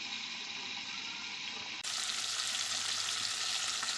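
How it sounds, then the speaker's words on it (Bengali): Cauliflower fries in a covered pan with a steady, soft sizzling hiss that jumps noticeably louder and brighter partway through, then holds as an even crackle with no voices. "ঢেকে দিচ্ছি ফুলকপিটা যতক্ষণ ভাজা হচ্ছে"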